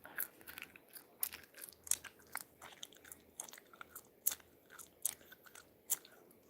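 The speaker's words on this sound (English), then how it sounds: "If you don't like me popping my gum or chewing" Gum being chewed and popped close to the microphone, a run of sharp, wet crunchy clicks and smacks at an uneven rhythm with no talking.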